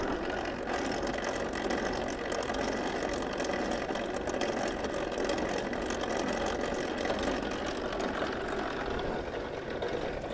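A lathe runs steadily after a gearbox gear change, giving a continuous, even mechanical whir and rattle of meshing gears at moderate distance, with no voices.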